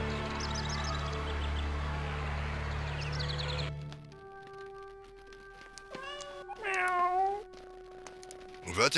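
A cat meows in the Star Trek: Judgment Rites computer game, heard after a stretch of game music and room tone. A short rising mew cuts through clearly near the end.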